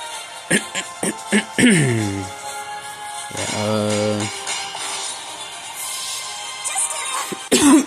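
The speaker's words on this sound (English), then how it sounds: "I was trying to hold back my coughs as much as possible" A person who is sick coughs several times, with short sharp coughs at the start, then longer strained, throaty bursts that sound partly held back, close to the microphone and fairly loud, with a final cough at the end.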